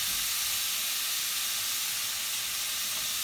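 Carne asada for tacos sizzling in a hot pan, a loud, steady, close hiss of frying meat that holds throughout with no break.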